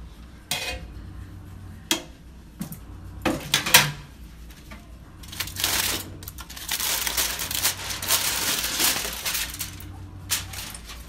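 Lid lifted off a pot of mutton kola biriyani: clanking metal pot and utensil knocks, scraping and rattling in irregular bursts, close and fairly loud, without talk.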